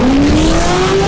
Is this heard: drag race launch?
yes